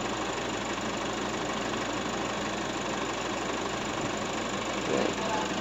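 A 2023 Nissan Navara pickup engine idles steadily up close, a low continuous hum with a faint mechanical tick and a brief bump near the end, while speech is heard over it.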